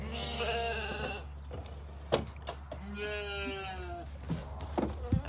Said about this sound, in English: A very noisy little sheep.